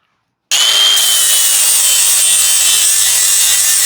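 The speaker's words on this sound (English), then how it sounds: "I'm just going to use the angle grinder and just grind a little bit off this back side here" An angle grinder bites into a lawn mower blade, starting abruptly after a short silence and then grinding loudly and steadily up close with a harsh, high-pitched metallic whine.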